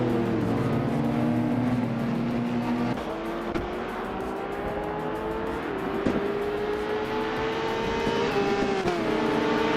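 Race car engines roar off the start line in a racing video game, a pack of cars droning and revving together, pitch climbing and stepping through gear changes, continuous and loud with no voices.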